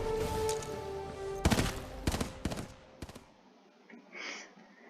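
Gunfire in the video game Titanfall: loud bursts of rapid automatic shots over a musical backdrop, then several single cracks before the sound drops away to quiet.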